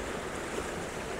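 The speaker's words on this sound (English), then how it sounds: "I've just stopped at this where the small waterfall's hitting the rock and everything's splashing over." Steady broadband rush of a small waterfall splashing over rock on Skye, a continuous close hiss with no breaks.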